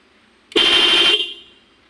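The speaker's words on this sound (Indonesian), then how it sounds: "Begini suara klakson putus-putusnya." A faulty car horn sounds one loud, close blast of about half a second, then cuts off to near silence.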